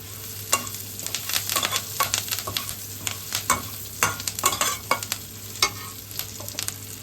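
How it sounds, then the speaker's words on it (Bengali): Curry leaves dropped into hot oil for potato fritters crackle and sizzle sharply, with a dense run of close, loud popping bursts and spatula scrapes over a steady hiss, no voices. "এবার আমি কারি পাতাটা দিয়ে দিচ্ছি।"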